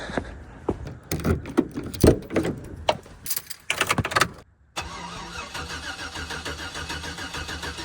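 A cammed LS2 Pontiac GTO cranks with uneven bursts and keys rattling, then catches and settles into a steady, loud idle.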